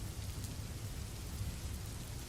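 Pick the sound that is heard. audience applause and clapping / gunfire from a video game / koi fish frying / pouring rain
pouring rain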